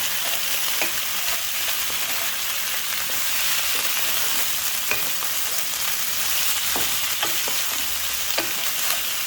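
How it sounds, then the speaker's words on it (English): Carrots and green capsicum sautéed in a pan over high flame for chicken Manchurian stir fry, giving a steady loud sizzle with scattered scraping clicks of a stirring spoon throughout. "Saute it about for 5 minutes. Keep stirring on high flame."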